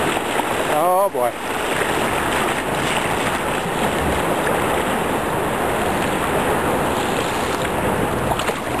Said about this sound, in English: Now we're in the waves and turbulence caused by the restriction of the bridge.